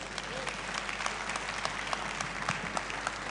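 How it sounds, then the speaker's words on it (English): Dense, steady applause from a large conference audience in Lagos, continuous clapping throughout with scattered sharper claps, fairly distant and no voices over it. "can we make that applause louder?"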